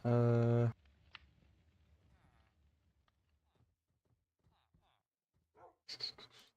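A dog in a Minecraft modpack gives one loud, clear bark at the start, followed by a long quiet stretch of faint panting-like sounds and small clicks, with a short whimper or sniff near the end.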